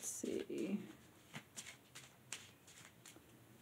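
A few soft riffles of tarot cards being shuffled, brief rustling bursts close by, with a quiet voice briefly murmuring.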